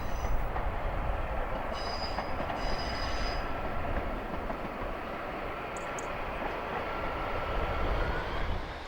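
A train runs along the Cumbrian Coast line in England, a steady continuous rumble of wheels on rail with brief high squeals, close and loud throughout with no talk.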